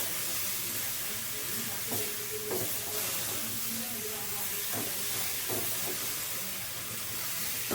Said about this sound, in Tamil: நல்லா கொஞ்சம் காளான் வதங்கிட்டோம்